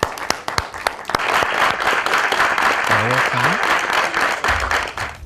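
A studio audience gives a round of applause to welcome the third and final contestant, from Pando, on a children's mental-arithmetic quiz show. The clapping is loud and sustained, with a brief voice rising over it midway.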